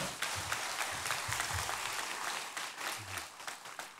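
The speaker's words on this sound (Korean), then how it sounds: "목사님 나오실 때 큰 박수로 맞아주시기 바랍니다." A church congregation at an afternoon worship service applauds a pastor coming forward, with continuous crowd clapping for four seconds. Individual sharp claps stand out near the front, and a few low voices murmur underneath.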